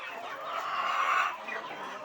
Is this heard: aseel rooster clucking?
yes